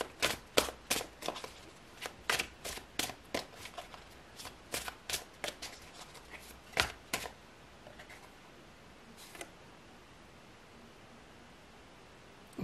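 Tarot cards being shuffled by hand, a quick run of crisp, riffling slaps in a steady rhythm up close, then thinning into softer rustles and a final few flicks, no talking.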